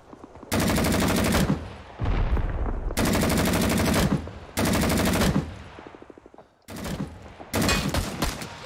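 Automatic gunfire from the Vietnam War video game Rising Storm 2 comes in four loud, sustained rapid bursts of a few seconds each, separated by brief pauses and echoing tails. No voices are heard.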